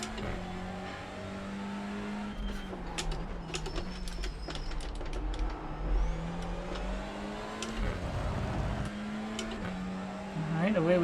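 Race cars accelerating off the start in the iRacing sim at Spa: a steady droning engine note rises and shifts through gears, with a whirring mechanical layer and a voice talking over it.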